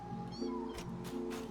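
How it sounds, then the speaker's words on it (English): Cats meow in a video game world: a couple of close, drawn-out meows a moment apart, over a steady low background hum. "Uh-oh, kitty cats. I hear them."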